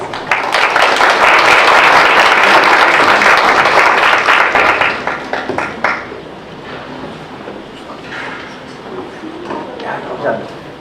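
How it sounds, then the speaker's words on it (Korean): Strong applause from a symposium audience greets an invited professor, loud and dense for about five seconds, then thinning into scattered claps and rustling. "큰 박수로 모시겠습니다"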